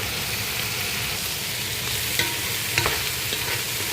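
Corn being sautéed and stirred in a hot pan, a steady dense sizzle with occasional scraping clicks of the spatula, close and continuous with no talking.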